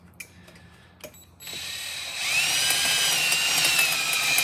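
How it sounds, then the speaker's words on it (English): A power drill whines steadily, rising in pitch and loudness as it drills out sheet metal rivets, after a few quiet clicks and taps. "now we have drilled our rivets out"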